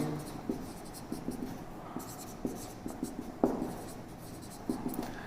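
A pen writes math equations on paper or a board in short scratchy strokes with small taps, close and fairly quiet, in an otherwise silent room.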